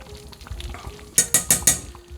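A thick vegan potato paprikash stirred in a pot, a soft low murmur followed by four quick, sharp knocks of a utensil against the pot, close and evenly spaced.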